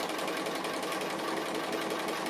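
Continuous, even whirring of a sewing machine stitching an appliqué outline with grey thread, loud and uninterrupted throughout, with no voices.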